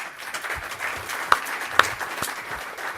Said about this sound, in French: il me reste à remercier nos intervenants en les applaudissant bien fort